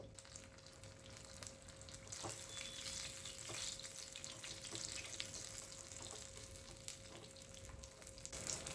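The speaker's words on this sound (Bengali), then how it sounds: "এই বড়াগুলো কিন্তু সর্ষের তেলেই বেশি ভালো লাগে হালকা লালচে করে ভেজে নেব বেশ মুচমুচে হবে" Ash gourd fritters deep-frying in mustard oil, a faint, even bubbling sizzle with light crackles, steady and quiet throughout, with no voices.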